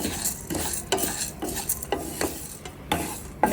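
Moringa leaves and chillies stirred in a pan with a little oil, a spatula scraping and clinking against the metal in repeated strokes about every half second over a soft steady sizzle, close and alone.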